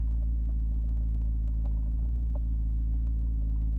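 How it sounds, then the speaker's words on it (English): A McLaren running on a swapped engine drives along with a deep, steady low rumble and engine drone from inside the car, marked by faint intermittent clicks and taps. "It feels like so long since I've actually felt this car driving under its own power."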